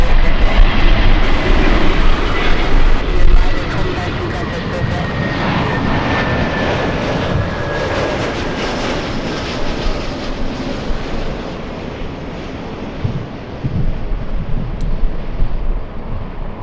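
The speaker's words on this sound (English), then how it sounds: "We have a Delta A321." A Delta Airbus A321 airliner arrives at Los Angeles International, its engine roar loud and broad throughout with a faint whistling tone drifting slowly downward, swelling again near the end.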